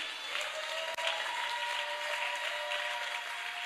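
A church congregation bursts into steady, dense applause acclaiming the king, a continuous wash of clapping hands with no voices standing out.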